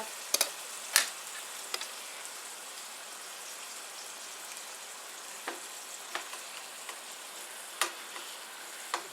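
A beef roast sears in a pan with a soft, steady sizzle, punctuated by scattered sharp pops and crackles, faint and close without any talking.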